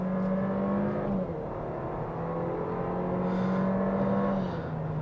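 Mercedes-Benz CLA Shooting Brake engine heard from inside the car: a steady hum that dips as a gear changes, holds at lower pitch, then drops again near the end. No talk.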